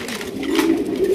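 Pigeons coo at a pigeon farm, a steady run of soft throaty burbling calls that stay close and fairly loud throughout.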